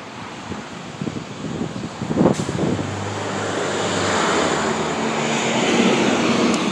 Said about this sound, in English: where the sounds of cars go by is noisy